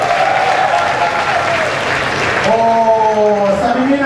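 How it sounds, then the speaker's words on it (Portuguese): Audience applause at a drag comedy show at Blue Space nightclub, a steady loud wash of clapping throughout, with music tones and a voice entering over it in the second half. "você aplausa pra ele, gente."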